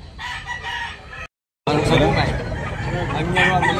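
A fighting rooster crows loudly and close, its call broken by a short gap, amid a busy outdoor cockfighting market crowd in Tabunok, Talisay with babbling voices throughout.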